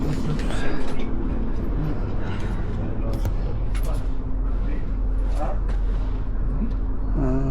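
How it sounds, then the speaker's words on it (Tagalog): Inside a second-class Swiss passenger train near Interlaken, a steady rumbling ride with occasional clicks and rattles runs under people talking nearby. "So, ito yung tren na nakuha namin."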